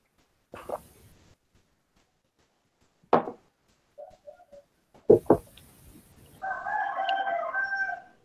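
A person imitates a rooster's crow with a drawn-out, warbling vocal call near the end, preceded by a few scattered clicks, thumps and short noises in an otherwise quiet room.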